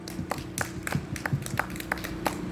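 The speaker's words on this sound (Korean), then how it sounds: "큰 박수 부탁드립니다" Scattered hand claps from a small crowd at an outdoor political rally, a dozen or so separate, uneven claps ringing out against a quiet background hum.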